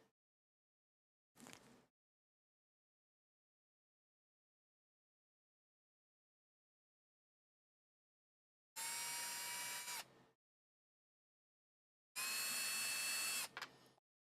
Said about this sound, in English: we're actually going to drill these out